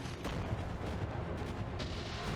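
Howitzer shots in the mech combat game Mecha Knights: low, muffled booms and rumbling artillery fire rolling at a distance under a steady wash of battle noise.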